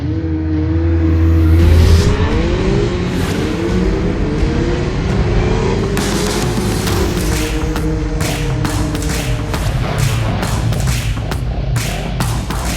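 Motorbikes ridden by a touring group on the road, a steady engine drone with rising revs, thuds and a passing rush near the start, then rapid repeated clicks and taps over the continuing motor noise.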